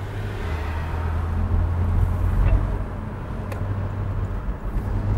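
A 2017 Porsche 911 Carrera 4S Cabriolet cruises with its top down, giving a steady low engine drone mixed with broad rushing road and wind noise, constant throughout with no talking.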